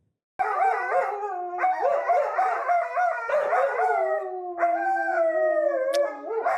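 Two sheepadoodle dogs howl and bark in long, wavering, overlapping cries while playing, loud and close, with a few short pauses between the howls.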